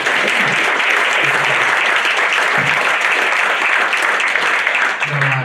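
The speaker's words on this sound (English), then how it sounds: "let's give Nolan another round of applause" An audience at a talk on Hawaii's housing crisis gives a steady, loud round of applause, dense clapping sustained evenly from start to finish.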